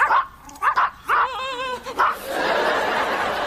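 Several sharp dog barks come in quick bursts, mixed with whimpering yelps, followed by a steady hiss of background noise.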